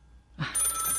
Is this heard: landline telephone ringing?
yes